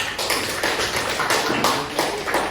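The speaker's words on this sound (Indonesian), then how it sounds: "Ya, kita kasih aplaus." A small group claps in a classroom setting, a short run of close, uneven slaps that swell and fade in brief clusters with no speech.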